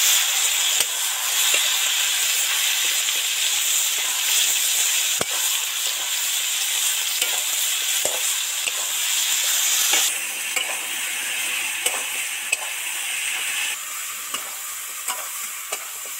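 Spices fry in oil for a mixed vegetable curry, a loud steady sizzle with frequent sharp clicks and scrapes of stirring, easing slightly later, with nobody speaking.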